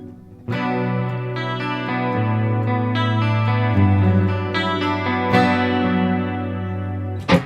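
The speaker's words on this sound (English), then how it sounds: "And if we want the delay and reverb" Clean guitar chords strum through a Neural DSP Quad Cortex with delay and reverb, ringing out with a lingering, spacious tail, the notes echoing and blending together, no voices present.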